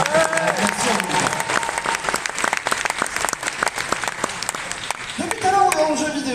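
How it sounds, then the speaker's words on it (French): A large convention crowd at Paris Games Week applauds the technical teams, loud continuous clapping throughout with a voice briefly heard at the start and again near the end. "On applaudit super fort toutes les équipes techniques, les tournées de travail, toutes les équipes derrière"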